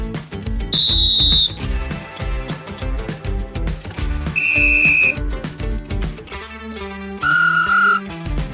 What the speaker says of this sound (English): We customize the whistle from the sound.